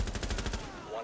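Rapid gunfire from Rainbow Six Siege shot through a wall indoors, a burst of evenly spaced loud cracks over about a second, fading at the end.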